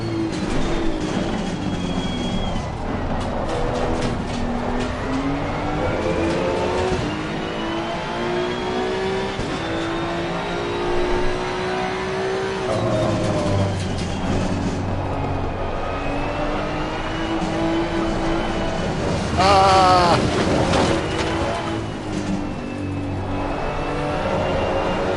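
A long-tail Porsche GT2 race car in Assetto Corsa Competizione, its engine droning continuously throughout with rising and falling revs through gear changes, sustained and fairly loud with no talking.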